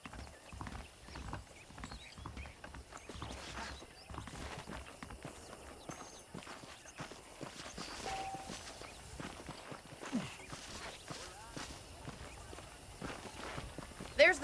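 Saddled horses walking in Red Dead Redemption 2, a steady run of soft hoof clip-clops and footsteps at moderate distance, with a voice talking over them throughout.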